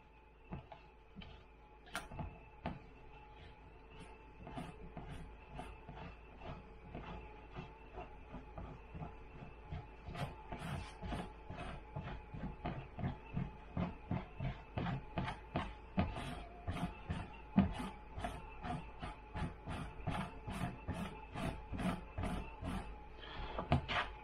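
Dried dragon fruit seeds being scraped off a surface with a handheld tool, heard as a rapid, steady run of rough scraping strokes that grows slightly louder, with no talking over it.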